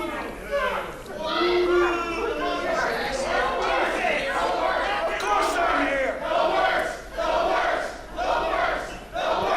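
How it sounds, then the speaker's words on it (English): A loud crowd of children at Camp Leapfrog jeers and boos Sydney Bacabella, with many voices shouting and yelling together in a continuous, rowdy roar that rises and falls. "As you can hear, the crowd is not fond of Sydney Bacabella."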